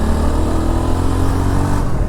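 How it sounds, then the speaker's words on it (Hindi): The 334cc liquid-cooled engine of a Yezdi Adventure motorcycle rumbles with a deep, bassy exhaust tone. It is loud and close, holding a steady drone with no talk. "एंड इसका जो एग्जॉस्ट है that is also very nice sounding, काफ़ी बेसी है"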